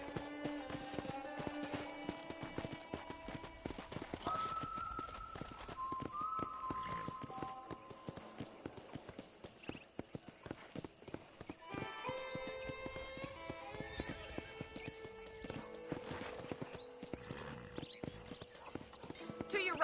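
Horse in the video game Red Dead Redemption galloping with steady, rapid clip-clopping hooves and an occasional whinny, over game music and some voices.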